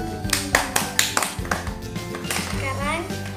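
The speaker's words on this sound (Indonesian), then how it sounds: "Yeay, tepuk tangan." Children clap their hands at a birthday gift unboxing, a quick run of sharp claps with cheerful talk and kids' voices over the top.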